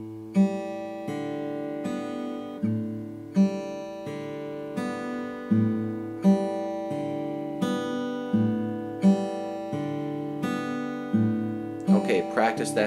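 Acoustic guitar plays a fingerpicked pattern, a steady, close, repeating sequence of plucked notes that rings out clearly, with a brief scratchy noise near the end.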